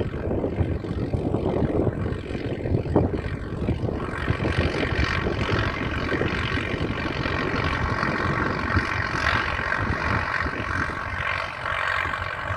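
Valmet 880 tractor engine running steadily while planting corn with a four-row Tatu planter, a loud, constant low droning rumble heard close by, with no break in the noise.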